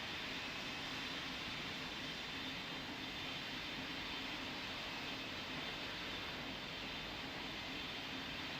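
A heavy jet airliner's engines roar steadily during a takeoff in Pilot Training Flight Simulator, a continuous, even rush of noise with no other sounds standing out.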